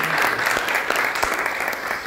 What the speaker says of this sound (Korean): 박수로 안녕하도록 하겠습니다.